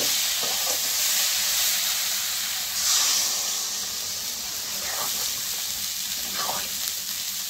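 Fish sautés in a pan with spices for a Bengali fish curry, giving a loud, continuous sizzle and hiss with a few brief stirring scrapes mixed in.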